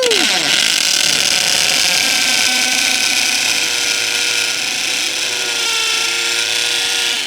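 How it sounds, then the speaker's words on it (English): A loud, continuous hammer drill grinds into concrete, a harsh high-pitched rattling whine that holds steady throughout. "I got my hammer drill here."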